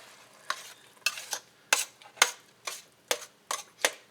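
Ground meat for a low-carb chili is scraped and pushed around a greasy pan in about eight quick, even strokes, each a short rasping scrape with a faint sizzle underneath. Nobody speaks.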